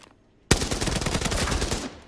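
Assault rifle fire in the shooter game Arena Breakout: Infinite, a loud sudden burst of rapid automatic shots rattling continuously for about one and a half seconds after a quiet start.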